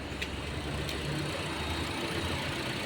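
A Honda HR-V engine that had been misfiring idles steadily after the fault clears, a low, even hum with no talk.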